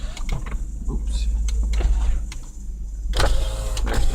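Power window of a 1998 Ford Taurus whining briefly as it moves, a couple of short motor runs heard close over a low engine idle, with someone talking in between.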